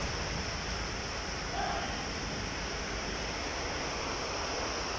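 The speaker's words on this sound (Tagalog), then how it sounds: "Unang ulan" Rain falls steadily during a storm in Saudi Arabia. It makes a soft, even hiss that runs unchanged throughout, with no talking.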